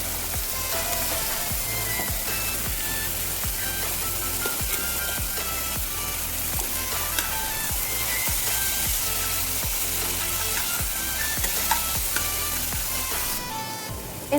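Chicken mince frying in spiced oil with Kashmiri red chilli powder in a pan, a continuous close sizzle broken by rhythmic scraping and stirring strokes, with no talking.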